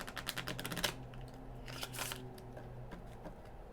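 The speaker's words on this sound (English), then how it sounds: "now the moment we've all been waiting for, the first shuffle" An oracle deck of 27 small Witches' Alphabet cards being shuffled by hand, a quick burst of crisp riffling clicks followed by softer shuffles and a second papery flurry, close and alone.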